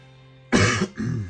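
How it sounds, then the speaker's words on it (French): Two short, harsh coughs close to the microphone, one right after the other, following a moment of near silence. "désolé, je tousse un peu"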